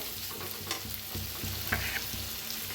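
Spiced masala roasting in oil in a pan for a ghevda bean dish, a close, steady crackling sizzle with soft scraping stirs and occasional small spatters, no one talking.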